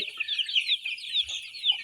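Sonali chickens cluck and chirp on a poultry farm, a busy overlapping chorus of short, high calls that repeats steadily at moderate volume, with no voices.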